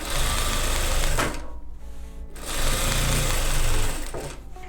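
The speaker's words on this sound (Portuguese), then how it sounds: "a gente vai sempre costurando e dando uma acertada assim no tecido" Fabric pieces for a bag are stitched on a sewing machine, its rapid needle clatter running loud and near in two bursts with a short pause between while the fabric is adjusted.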